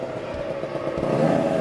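Motorcycle passing by outdoors, a rising engine drone that grows slightly louder over its short span with a rough, buzzing tone.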